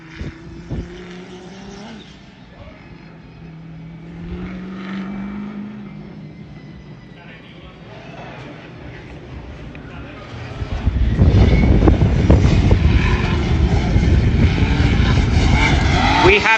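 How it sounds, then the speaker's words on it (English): BMW E46 drift car with an LS3 V8 engine at a Driftkings practice session, engine roar building and then growing loud and sustained as it slides past, with commentary talking over it. "we have Kyriakos Marios Tsodas with his E46 powered by an LS3 engine."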